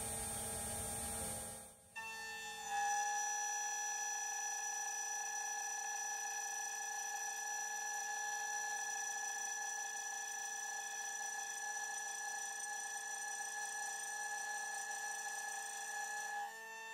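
A CNC milling machine jogging its tool up off the top of a part, heard as a steady, high-pitched motor whine. It settles in after a brief louder start and then stays constant and even, with no talk.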